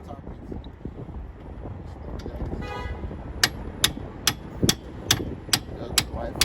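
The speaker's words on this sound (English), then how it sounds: "So now we're going to get a hammer," Sharp metallic hammer taps ring out on the wheel hub of a 2006-2013 Chevrolet Impala during a wheel bearing replacement, about eight evenly spaced strikes over light wind noise.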